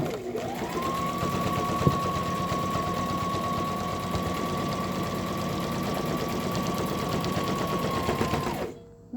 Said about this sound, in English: you get it in your machine and you sew over it a second time